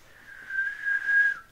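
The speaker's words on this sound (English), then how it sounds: "You just whistled." One person whistles a single steady, slightly wavering tone at close range for about a second, rising in loudness toward the end before cutting off, with no talk over it.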